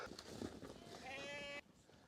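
Lambs bleat several times at close range as they are caught for ear marking at a Mongolian nomad camp, the cries rising over background movement and a voice talking.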